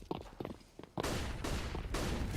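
Dense bursts of automatic gunfire in a competitive CS:GO match, loud sustained volleys starting after a second of quieter scattered shots and footsteps, with brief gaps between sprays.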